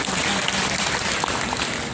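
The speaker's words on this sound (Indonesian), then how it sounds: "Tepuk tangan." Steady applause from a crowd, dense clapping that holds at an even loudness throughout.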